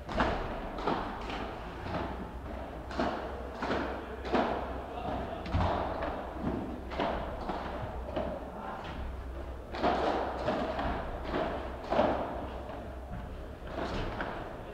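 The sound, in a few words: padel ball hits and volleys during a rally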